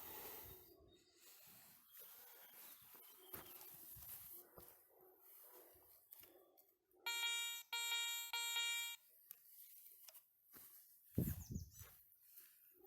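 A Garrett 400i metal detector swept over a lead seal 10 cm down in soil gives a repeating electronic tone, three short loud beeps in a row that stand out above the scraping of the coil and the noise of the field.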